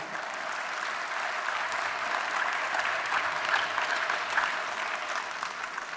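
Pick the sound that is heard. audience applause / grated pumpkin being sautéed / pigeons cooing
audience applause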